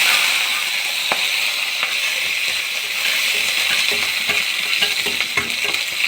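Pepper, cumin, ginger, garlic and chilli sizzle steadily in hot oil, a loud continuous frying hiss broken by small pops and stirring scrapes.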